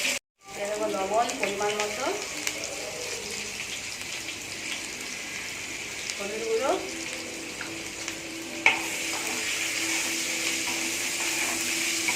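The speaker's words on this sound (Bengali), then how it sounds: "আমি আলুটা ভেজে নেবো" Potatoes frying in hot oil for a home-style potol (pointed gourd) curry, a steady broadband sizzle running throughout with a few brief clatters of stirring near the start and middle.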